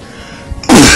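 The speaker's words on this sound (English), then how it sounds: "I gotta sneeze" A single sharp sneeze bursts out close by after a brief breathy buildup.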